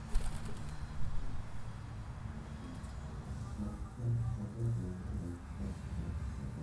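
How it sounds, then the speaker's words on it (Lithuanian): Pigeons cooing at a cell window in Lukiškės remand prison, with soft, low coos repeating faintly a few times over a constant background hum. "Patys geriausi draugai Lukiškių tardymo izoliatorių kalėjime tai yra balandžiai."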